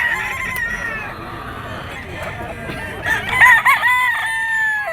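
Crowing from a two-year-old sweater gamefowl rooster, several raised calls rising over a busy background of other fowl clucking and crowing nearby.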